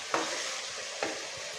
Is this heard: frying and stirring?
yes